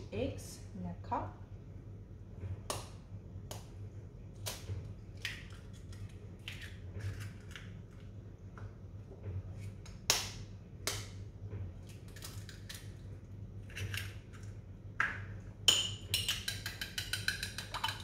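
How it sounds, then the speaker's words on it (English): Two eggs cracked and broken into a cup while making Zambian dondo, heard as scattered small clicks and taps over a low steady hum, ending in a brief crackly rattle. "I'm gonna break my 2 eggs in a cup."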